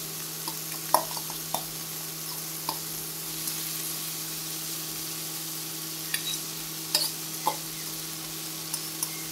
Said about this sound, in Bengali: চাউমিনটাকে আমি একটু ছড়িয়ে নিচ্ছি, কারণ তেল দেওয়াই আছে, ওই জন্য চাউমিনটাকে ছড়িয়ে নিতে হবে।